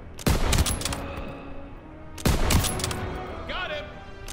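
Call of Duty WW2 battlefield gunfire erupts in two dense bursts of rapid shots, loud and close, with echoing tails and a faint ricochet-like whine between volleys.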